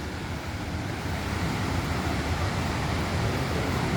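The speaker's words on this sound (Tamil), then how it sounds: "உங்களுக்கு அந்த அருவியின் சத்தம் கேட்கும் என்று நினைக்கிறேன்." A roaring waterfall heard close by, a steady, dense rush of falling water, loud and unbroken for the whole stretch with no voices over it.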